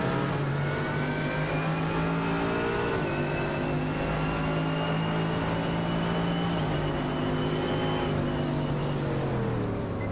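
Onboard engine of the pink Power Racers GT car in iRacing, Blancpain GT Series at Silverstone, droning loud and steady throughout, with pitch climbing through gears and dropping on shifts and braking.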